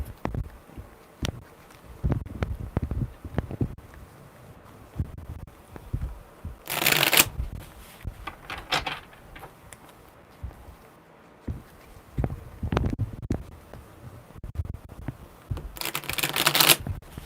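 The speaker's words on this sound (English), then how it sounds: "Okay, one more good shuffle." Tarot cards are shuffled close up in repeated bursts of riffling and soft slaps, with brief louder flurries between quieter handling sounds.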